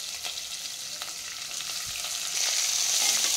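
Green chillies and chopped onion frying in hot oil over a raised flame, a steady bright sizzle that grows a little louder toward the end, with no talking.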